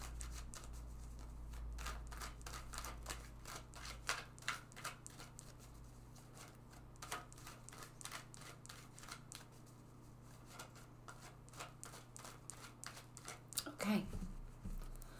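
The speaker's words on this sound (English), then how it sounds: "go ahead and shuffle this deck several times." Tarot deck of cards being shuffled repeatedly at close range, quiet rapid riffling and patter with a low hum underneath, ending with a brief knock.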